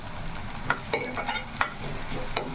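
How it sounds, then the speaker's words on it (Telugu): Onions and cashews fry in a pan with a steady sizzle, broken by several sharp scraping clicks as the mix is stirred, close and fairly loud. "ఉల్లిపాయలు కూడా చక్కగా వేగుతున్నాయి జీడిపప్పు కూడా బాగా వేగిపోయినాయండి"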